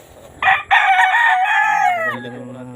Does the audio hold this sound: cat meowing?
no